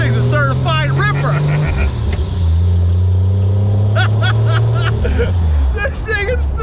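A cheap, worn Jeep Wrangler's engine revs loudly while driving, the deep drone rising and falling as it shifts, with people talking over it close by.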